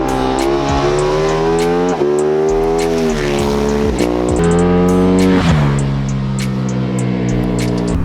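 A loud, high-revving 2018 KTM 1290 Super Adventure R motorcycle engine with aftermarket exhaust screams through repeated gear changes, pitch climbing and dropping sharply several times, close and continuous with no talking.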